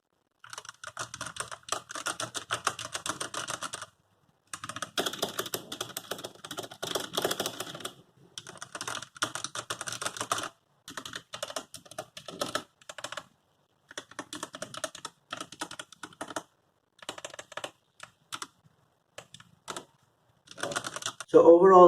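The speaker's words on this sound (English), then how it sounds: "now let's do a sound test of this keyboard as well" Typing on a Redragon Deimos K599 RGB mechanical keyboard with red switches, with close, crisp bursts of rapid keystrokes separated by short pauses and no talking.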